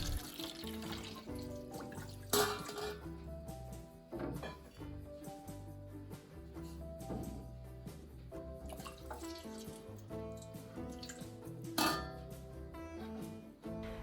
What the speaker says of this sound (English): and pour water into it.